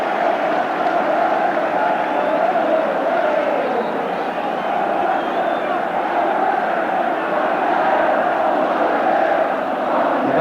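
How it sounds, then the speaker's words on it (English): Football crowd at Tottenham Hotspur versus Nottingham Forest, 1980, roars in a broad sustained swell of cheering after a Tottenham goal, continuous and loud across the stadium. "And that's awoken the crowd from its slumbers."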